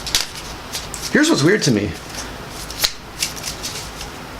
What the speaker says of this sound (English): I gotta shuffle up the deck.